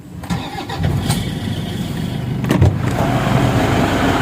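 A Toyota Fortuner diesel engine turns over and catches, with a short squeal at startup, then runs on in a fairly loud, steady rumble close by.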